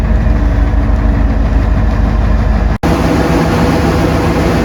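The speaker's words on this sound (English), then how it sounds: "This is the combine he's had for the last couple of years now." A John Deere 9500 combine engine idles at a corn harvest in Western Pennsylvania, a loud, steady low rumble that runs throughout with one brief dropout partway through.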